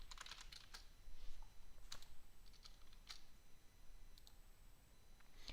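Quiet typing on a computer keyboard, a run of uneven light clicking keystrokes with short pauses, close and soft, with no speech.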